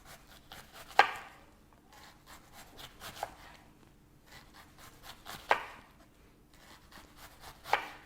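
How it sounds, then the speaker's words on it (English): A knife slices a red onion into thin slices on a cutting board, giving a few sharp separate chops amid soft scraping and rubbing, fairly quiet and close. "And then just do some really nice thin slices"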